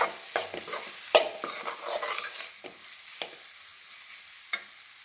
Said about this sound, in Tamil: மசாலா நல்லா எண்ணெயில் நல்லா வதக்கணும்.